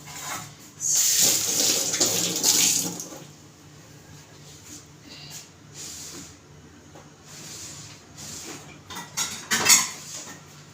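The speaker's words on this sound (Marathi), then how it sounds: "आणि ह्याच टोपामध्ये मी आता अशी घासून घेते मी हात धुवून घेते" Hands being scrubbed and rinsed under running tap water in a cooking pot during puran poli preparation in a kitchen, with splashing and hissing water and clinks of metal utensils in bursts, loudest at the start and near the end.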